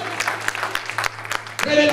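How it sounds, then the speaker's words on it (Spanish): A church congregation gives a short round of scattered applause during a preacher's sermon, a handful of distinct close claps in quick succession over a low hum, ending as a voice begins speaking. "Denle un aplauso de vida ahora."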